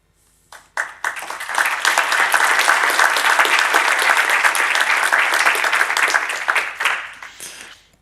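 Audience at a talk on an AI-powered character animation web service bursts into sustained, loud applause that swells quickly, holds steady for several seconds, then tapers off.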